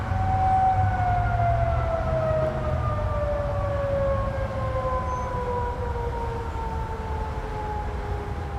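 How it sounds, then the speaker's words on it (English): Outdoor tornado warning sirens wail across Denver, long slowly falling tones that sound distant and carry over a low background rumble, with no talk. "these are tornado sirens going off right now"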